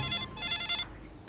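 A telephone rings twice in quick succession, a brief electronic trill heard faintly and close by, fading out at the end.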